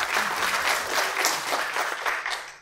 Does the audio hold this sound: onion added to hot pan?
no